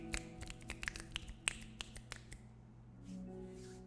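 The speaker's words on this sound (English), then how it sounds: "I'm simulating an audience by snapping with multiple fingers." Several fingers snap in a quick, irregular patter standing in for a small audience's applause, a dozen or so sharp close clicks over a couple of seconds before fading to a quiet hum.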